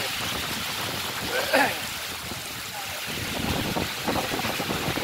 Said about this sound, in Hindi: वो प्यारा मौसम है, बहुत तेज बारिश है माशाल्लाह।